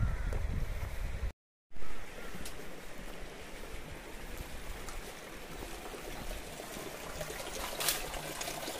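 Steady rushing water from a mountain spring in a cold Himalayan valley, a continuous broadband flow with breezy microphone noise, broken by a brief dropout early on, with no talking.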